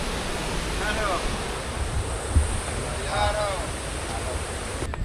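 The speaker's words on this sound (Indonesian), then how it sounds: "Air terjun Tenggedu" Tenggedu waterfall on Sumba roars as steady broadband rushing water close by, with wind buffeting the microphone and a couple of faint voices briefly over it.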